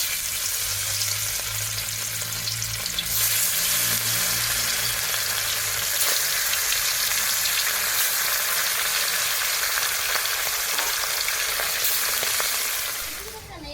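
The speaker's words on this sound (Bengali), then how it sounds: "তেল কিন্তু গরম হয়ে গেছে তো আমি এবার মাছটাকে একা এক ভেজে নেব" Fish sizzles steadily in hot oil, a loud, continuous frying hiss that lasts throughout, heard close with no talk over it.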